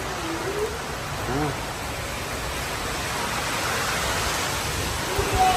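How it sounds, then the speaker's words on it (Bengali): Rain falls steadily as an even hiss on surfaces, with no break over several seconds; faint voices can be heard beneath it. "সে বৃষ্টি শুরু হয়েছে"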